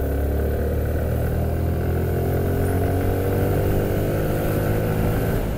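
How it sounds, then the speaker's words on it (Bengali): A Suzuki Gixxer Fi Disc motorcycle engine braking, a steady loud low engine drone with falling tones as the revs drop, continuous and close with no talk. "সো আমি কিন্তু এইমাত্র ইঞ্জিন ব্রেক করলাম।"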